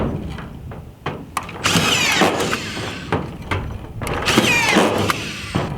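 A collated screw gun drives fasteners into metal roofing in loud whirring bursts: a few short hits early, then two long sustained runs with clacking feed sounds between them, up close.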